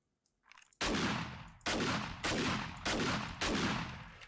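A gun in the 7 Days To Die survival game fires five loud, close single shots at a slow, steady pace, each a sharp crack with a decaying echo, after a brief quiet handling sound.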